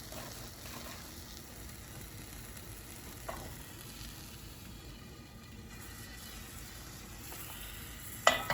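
Banana walnut pancake sizzling softly in a hot pan, a steady low frying hiss with a few faint clicks and a sharper knock near the end.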